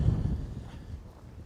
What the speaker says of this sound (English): It's very windy out today.